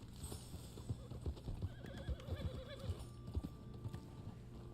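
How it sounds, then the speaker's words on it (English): Horse in Red Dead Online, a faint rhythmic clip-clop of hooves at a steady pace with a rising and falling whinny partway through, quiet and unaccompanied by talking. "Feed my horse here."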